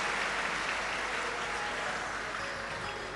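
Applause fills a Shiv Mahapuran katha gathering in welcome of the host families: steady, dense clapping from a large crowd, sustained and even throughout with no talking.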